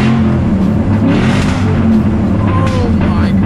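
A brand new Ford Shelby GT500 with its mufflers sawed off roars loudly and steadily, the raw exhaust drone holding strong throughout, with voices talking over it.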